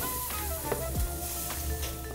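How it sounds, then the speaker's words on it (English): Fish sizzling inside a hot air fryer set to 400, a quiet steady crackling hiss with a low fan hum underneath and a couple of faint clinks, close by and without talk. "The air fryer's on 400. It's hot and sizzling."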